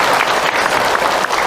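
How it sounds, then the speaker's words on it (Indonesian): Loud, close applause from a religious talk audience for Ibu Ros, a brief burst of dense clapping with no speech over it. "Tepuk tangan buat Ibu Ros."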